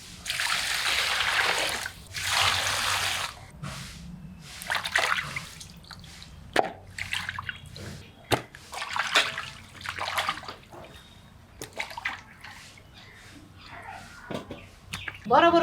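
Chicken pieces being rinsed in water in a basin, with splashing and dripping bursts that come and go between pauses, close by, while a person talks over it at times.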